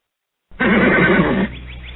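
A single loud horse neigh, a wavering whinny lasting about a second, followed by a quieter fading tail, from the opening of the Mister Ed TV theme.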